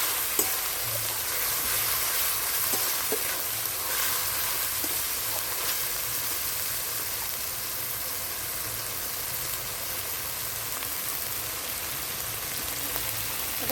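Chopped green chilli and ginger sizzle in hot oil in a pan while a banana dish is cooked, giving a steady, soft frying hiss with a few faint scrapes and ticks.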